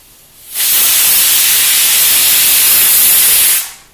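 A pressure cooker whistle blasts a single loud, steady rush of hissing steam for about three seconds, then cuts off sharply, with no voices over it.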